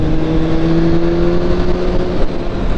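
A motorcycle pulls strongly through its mid-range around 4000 to 6000 rpm, a steady close engine drone holding pitch, with a brief surge near the end and no voices.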